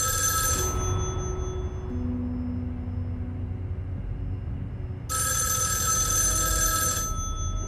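A telephone rings in the PS5 video game Erica, with two bright ringing bursts separated by a quiet stretch over a low, steady background rumble.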